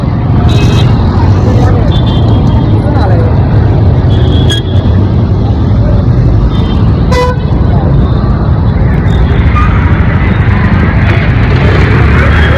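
Busy, jammed road traffic with car and bus engines droning, repeated horn toots and honks cutting through, loud and close, with people talking over the din.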